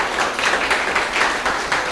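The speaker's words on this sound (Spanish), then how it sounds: "¿Qué tal si les damos un aplauso fuerte a aquellos que nos están viendo?" A church congregation applauds, a dense, even wash of many hands clapping that fills the room steadily for a couple of seconds, with no voices over it.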